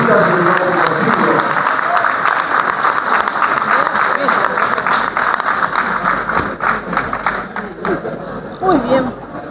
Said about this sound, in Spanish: Un aplauso para la decisión, las fotografías del nuevo contigo.